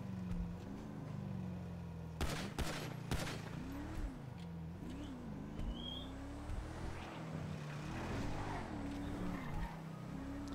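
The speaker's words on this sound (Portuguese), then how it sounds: "Vou dar tiro." A few sharp gunshot bursts crack out from the video game GTA RP over a steady droning car engine, with a cluster of shots near the middle.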